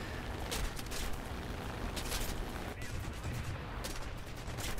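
A German 30mm cannon in War Thunder fires at a Stuka from a coastal attack craft, dense rapid bursts of heavy shots rattling over continuous background noise, fairly faint, in several volleys.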